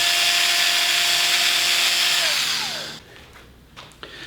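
A Rupes Ibrid Nano Bigfoot polisher whirs at high speed in a loud, steady whine for nearly three seconds, then its pitch drops as it spins down, leaving quiet handling noises.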